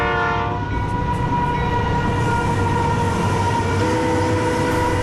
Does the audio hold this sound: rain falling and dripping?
no